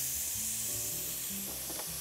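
Rice sautéed with spices in a pan, a steady bright sizzle with stirring scrapes, close and continuous.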